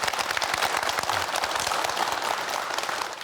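Audience applause fills a hall at a Korean county town-hall event, loud and dense with many distinct hand claps in a continuous steady burst from start to finish.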